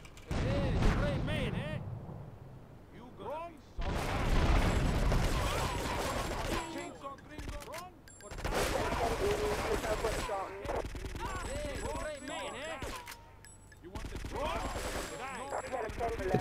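Rapid SMG gunfire in Grand Theft Auto 3, with loud bursts of automatic shots in several stretches alongside game effects, and a person talking over the action.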